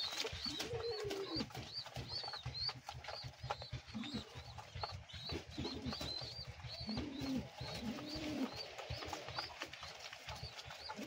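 Kept pigeons in a loft coo repeatedly in soft, throaty rolling calls, several birds overlapping nearby, with light shuffling and pecking between the coos.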